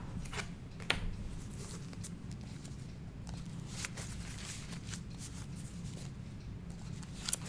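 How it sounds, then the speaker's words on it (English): A deck of Magic: The Gathering cards being shuffled, giving a steady, close papery riffling and rustling with a few sharper snaps, running on alone without talk. "Shuffle up just a touch."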